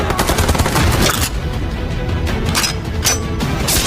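Gunfire in a sniper shootout from an action film, dense bursts of shots and sharp cracks over a busy, continuous action soundtrack.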